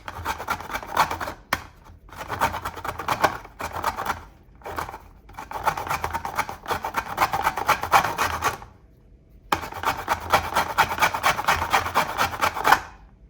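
Lemon zest being grated, heard as close, rhythmic rasping strokes in bursts of a second or two, separated by brief pauses, with one longer gap before the grating resumes.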